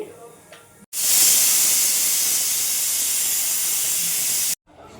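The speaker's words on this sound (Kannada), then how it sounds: "ನೋಡಿ ಇವಾಗ ಕುದೀತಾ ಇದೆ" About one and a half glasses of water with turmeric powder comes to a boil in a pressure cooker while making drumstick huli sambar, giving a loud, steady steam-like hiss that starts abruptly, holds for several seconds, then cuts off, with quiet kitchen sounds on either side.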